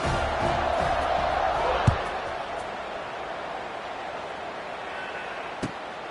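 Stadium crowd noise from the NCAA 25 college football video game: a steady, loud roar from a large crowd, with a sharp thump near two seconds and another near the end.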